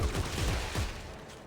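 Shotgun blasts in the game Dead Space 3: a few rapid, punchy low thumps close together in the first second, fading into a dull rumble afterward, with no talking.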